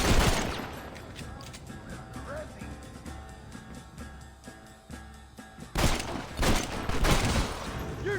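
A gunfight plays out in the Red Dead Redemption video game, with loud volleys of gunshots and a heavy burst near the end, and shouting voices over the gunfire.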